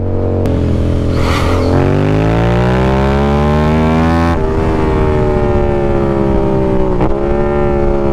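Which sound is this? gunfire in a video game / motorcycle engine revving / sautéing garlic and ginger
motorcycle engine revving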